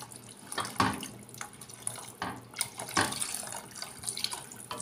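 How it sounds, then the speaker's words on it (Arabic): Water pours from a tap onto vegetables for an oat soup, a steady splashing stream with a few louder gushes and drips, close and moderately quiet, with no speech. "غادي نضيفوا الماء الكافي اللي غادي يكفينا باش نعملوا الشوربه ديالنا"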